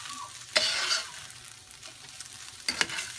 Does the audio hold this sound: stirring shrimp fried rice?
yes